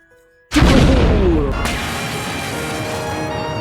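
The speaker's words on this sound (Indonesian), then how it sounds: "Izu pun akhirnya meledak, jeblegur tuh." A sudden loud explosion from the Kamen Rider TV series bursts in, followed by a long rumbling roar and crackling debris that slowly fades but stays heavy.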